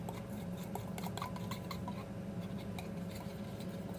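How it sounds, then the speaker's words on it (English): A small whisk stirring briskly in a little bowl, giving a steady run of rapid, light metallic clinks and scrapes, close and quiet, with no talking. "I have this handy dandy whisk here and a little bowl, so I'm just gonna stir it up"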